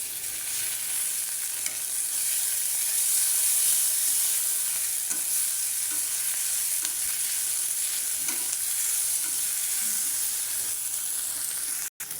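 Ginger and garlic paste fry in a pan while beef is being cooked, giving a loud continuous close sizzle and hiss with faint stirring underneath and a brief cut near the end, no speech.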